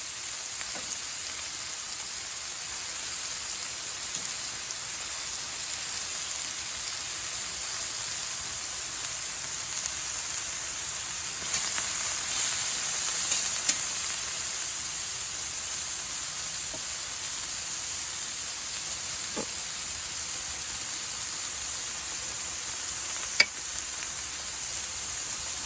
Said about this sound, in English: Sizzle it up in that olive oil flavored with the garlic and the cayenne.